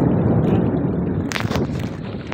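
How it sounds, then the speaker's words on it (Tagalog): Strong wind buffets the microphone at the shore of Rock Island, Quezon, a dense, loud, continuous rumble with a brief gusty hiss near the middle. "Yung lumalakas ng hangin"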